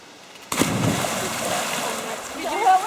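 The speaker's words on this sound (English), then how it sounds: "Did you hurt when you hit the water?" A person jumps into cold water with a sudden loud splash, followed by churning and sloshing water, with voices talking nearby.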